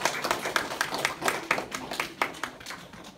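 Scattered audience clapping at a colour belt testing ceremony for the yellow to green group, uneven individual claps in a loose rhythm, fairly close and moderately loud, with no speech over them.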